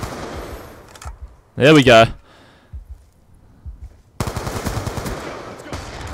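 Rapid automatic gunfire from Black Ops 2 played on Xbox One, a loud burst in the middle with quieter shots and further firing later, while someone talks over the game.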